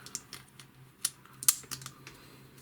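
Cheap £6 pocket watches being handled, giving a quiet run of small, irregular clicks and ticks with a couple of sharper snaps, close to the mic and without talk.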